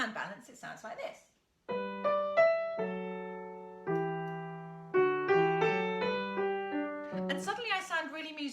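A grade 1 piano piece played with better hand balance between melody and accompaniment, a slow succession of notes and chords decaying, with talk before and after the playing.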